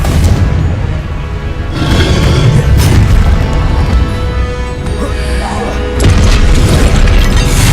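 Loud, repeated fiery blasts from the Confringo spell in Hogwarts Legacy, heavy booming bursts that surge at intervals over a dense rumbling battle bed, with voices mixed in.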